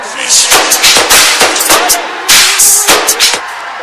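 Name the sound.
audience applause for poet Qamar Ejaz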